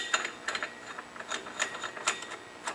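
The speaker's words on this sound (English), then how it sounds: "With a normal tightening motion, we tighten it up, and it'll push the clutch right off of the crankshaft" Clutch puller being threaded and tightened into the primary clutch of a Can-Am Commander 800-1000 side-by-side: a quiet run of irregular metallic clicks and ratcheting ticks, close up, with no talking.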